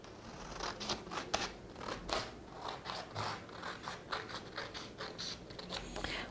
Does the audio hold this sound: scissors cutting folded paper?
yes